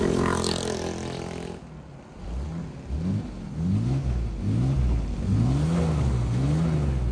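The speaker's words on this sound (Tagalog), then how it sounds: "Ito yung tunog niya guys pag stock yung muffler." A 1988 Mercedes-Benz W124 300D inline-six diesel runs through its stock muffler, close and steady, with repeated rising revs over a low rumbling idle and no talking.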